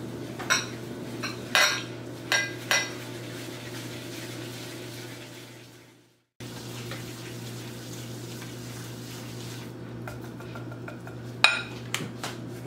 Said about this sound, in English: Then make sure that it's very, very mixed together before you add the next ingredient